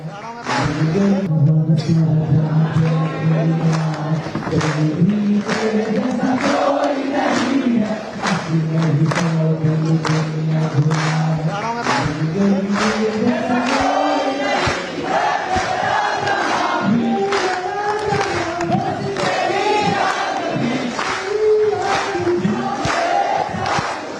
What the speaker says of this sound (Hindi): INS विक्रांत पर देखिए कैसी जोरदार तालियां बजी